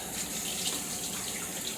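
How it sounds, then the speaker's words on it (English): Tap water runs steadily through a strainer in a sink while chicken wings are rinsed, a continuous close splashing hiss with no break. "this is a strainer I have, so the water is not staying in this. The water is going out of this."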